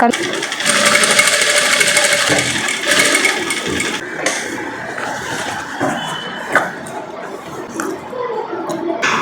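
A sewing machine runs steadily as it stitches around the edge of a short gown made from three meters of cloth, a continuous close mechanical whir with voices talking over it.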